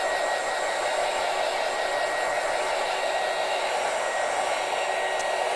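A hair dryer blows on freshly painted lavender tiered tray pieces, giving a continuous, even, close whooshing roar with no pauses.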